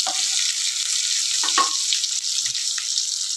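Onion, curry leaves and dried red chillies fry in hot oil with a loud, steady broadband sizzle, a few soft clinks of stirring scattered through it, no voices.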